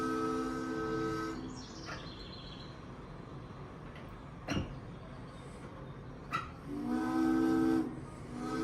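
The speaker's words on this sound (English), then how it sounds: "Here's a steam whistle." A steam whistle blows in a few long, harmonic-rich blasts, separated by pauses with sharp clanks and background bustle; fairly distant but clear.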